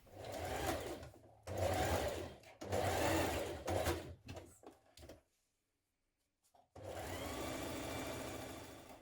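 A sewing machine runs in several loud, steady bursts while stitching down the outer leg seam of a pair of trousers, with a quiet pause before a final long run.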